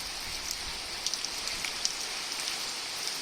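Rain falls outside a farmhouse balcony, a soft, steady hiss with scattered sharper drop ticks heard from a short distance, fairly quiet and without voices.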